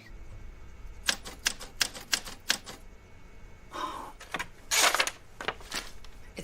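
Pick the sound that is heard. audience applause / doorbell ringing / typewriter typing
typewriter typing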